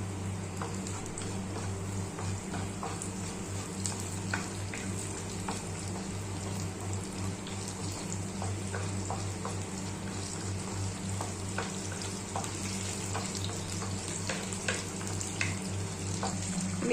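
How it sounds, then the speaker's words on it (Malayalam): Dried red chillies sizzling in hot oil for a tempering, a constant crackling hiss with scattered small pops throughout, steady and fairly faint, with no talk. "ഇനി അതിലേക്ക് ഉണക്കമുളക് വറ്റൽമുളക് ഇടുകയാണ്. അതും ഒന്ന് ചൂടായി വരുമ്പോഴേക്കും കറിവേപ്പില ഇടും."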